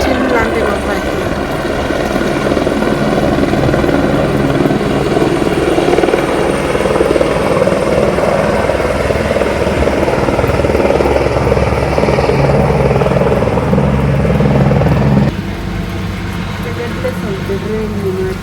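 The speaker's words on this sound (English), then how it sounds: "These choppers still are landing." Helicopters landing at a rally site in rain, a loud continuous rotor thrum and turbine whine close by, easing slightly toward the end, with someone talking over it.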